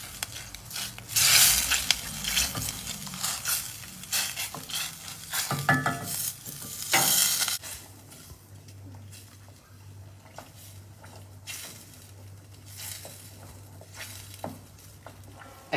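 00 flour is stirred into boiling water in a pot, giving wet scraping and sloshing strokes that come close and loud at first, then settle into quieter stirring over a low simmering hum.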